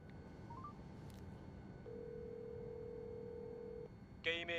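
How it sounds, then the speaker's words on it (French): A phone number being dialed in a Squid Game film scene: a short tone and a long steady beep over low background hum, followed by a quick burst of bright ringing tones at the end. "il s'arrête en plein milieu pour appeler le numéro"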